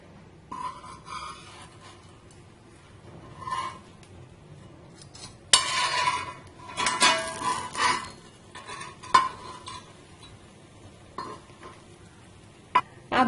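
A cheese bread pizza sandwich is flipped on a hot tawa, giving scraping and clinking of a metal spatula with soft sizzling underneath, the sharpest clatter bunched in the middle and a few light taps near the end.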